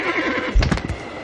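A horse gives a short, loud whinny close by, followed by a few hoof clops, in a comedy sketch about horses in Antarctic terrain, with no talk.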